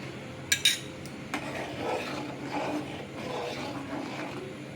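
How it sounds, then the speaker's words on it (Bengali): Milk being stirred in a pot on the stove while diluted vinegar is added little by little to curdle it for chhana, with a few sharp utensil clinks early on, then soft repeated scraping and swirling. "দিয়ে বারে বারে এখানে এরকম করে নাড়তে হবে"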